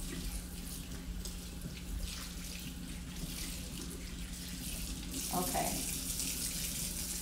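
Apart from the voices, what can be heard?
sink tap running water, rinsing dyed hair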